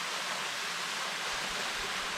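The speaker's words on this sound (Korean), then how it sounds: "15m 높이의 장대한 폭포로 영남알프스 산지를 대표하며" Paraeso waterfall, a 15 m cascade in the Yeongnam Alps gorge, gives a steady, dense broadband rush of falling water, even and continuous with no voices.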